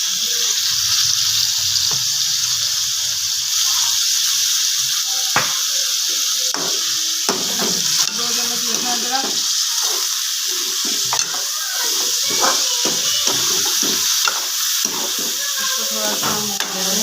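Chicken fries in a pan with garlic-ginger paste for a Lahori chicken dish, a steady loud sizzle and hiss under repeated clanks and scrapes of a stirring spoon.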